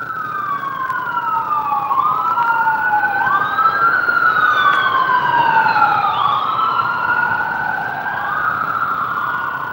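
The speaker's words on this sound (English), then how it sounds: "Ambulance." An ambulance siren wails continuously, its pitch sweeping up and down in repeating cycles, fairly close and loud over a low traffic rumble.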